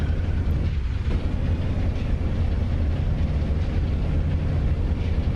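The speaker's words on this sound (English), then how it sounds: "the clunking. It sounds like we lost a cylinder or 3 here." A damaged P-47 Thunderbolt engine in the DCS flight simulator roars as a dense, steady rumble with rough, uneven clunking throughout, loud and continuous with no speech.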